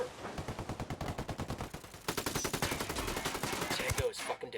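Rapid automatic gunfire from the Ghost Recon Wildlands shooter game, dense bursts of shots in a fast steady rhythm, loud and continuous across a tactical firefight with a brief lull near the end.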